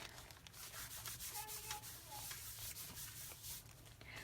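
An embossing buddy pouch rubbed over paper during a Stampin' Up! Brusho card-making session gives a steady soft rubbing and sanding sound, close and continuous, with no talking.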